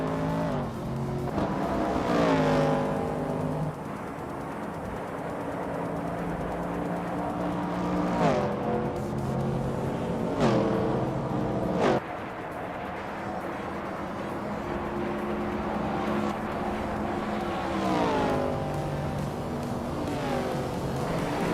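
Vintage Trans Am race cars roar through a video game race, engines howling and rising and falling in pitch with gear shifts, with brief tire squeals and cars passing close, loud and continuous throughout.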